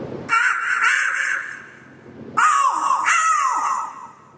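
A mimicry artist on a comedy stage imitates a crow with his voice, producing two bursts of loud, harsh, nasal caws, each a pair of rapid repeated calls separated by a short pause.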